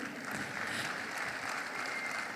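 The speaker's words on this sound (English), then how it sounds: "That deserves applause." An audience at a stakeholder forum gives a short burst of steady applause, fairly soft and distant-sounding.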